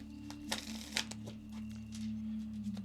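A deck of tarot cards is shuffled softly nearby in a few quick riffling bursts over a steady low electrical hum.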